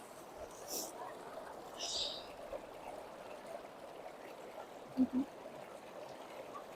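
Water from a mountain source in Jammu and Kashmir is being filled, with a steady rushing trickle running throughout. A few faint higher chirps and a couple of brief low knocks sit over the flow.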